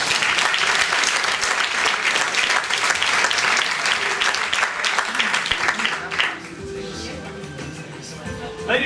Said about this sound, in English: You get a huge round of applause tonight